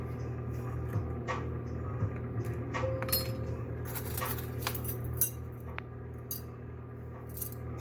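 Small clinks and plastic scrapes come from someone working the top off an oregano container while making pizza, a scatter of light taps and clicks close by over a quiet kitchen hum.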